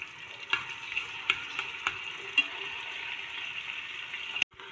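One medium onion, chopped, sizzling steadily in hot oil in a pan for a Pakistani potato and fresh bean sabzi, with a constant close frying hiss and a few sharp stirring clicks and taps, no talking.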